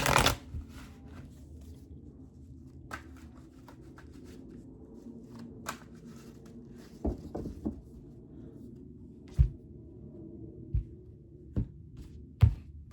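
Tarot cards being shuffled by hand, soft papery riffles and slides with sharper taps and snaps near the end, close and quiet with no talk.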